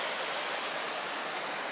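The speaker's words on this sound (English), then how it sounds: "I love the sound of this water coming over this little small waterfall" Water pours steadily over a small waterfall on a creek trail near Lake Superior, a close, constant broadband rush with no breaks or voices.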